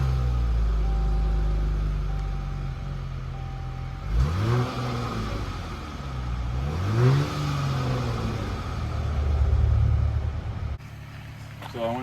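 A 2023 Dodge Challenger SXT engine heard from the rear as it cranks and fires, with two rising revs around the middle, then a steady idle rumble that swells briefly before cutting off; the engine runs continuously throughout.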